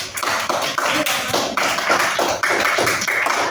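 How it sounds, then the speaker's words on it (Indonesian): Sixth-grade students in a science class clap their hands for a classmate group, a loud, dense run of close claps with uneven rhythm filling the moment. "tepuk tangan untuk kelompok kuncup ubin"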